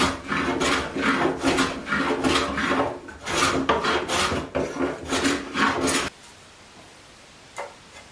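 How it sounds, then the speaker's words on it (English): Hand trimming of a wooden leg for a valet stand with a rasp or file: steady, close back-and-forth rasping strokes for about six seconds, then a near-silent pause with one faint knock. "So I will then trim this piece down."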